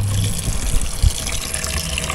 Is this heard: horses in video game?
no